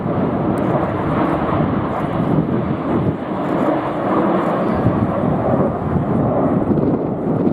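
Red Arrows jets fly a display at an air show, a continuous loud roaring jet noise filling the whole stretch, with a commentator's voice partly heard under it.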